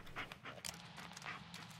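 Dog panting inside a video game, steady quick breaths repeating close up across the moment, no talk over it.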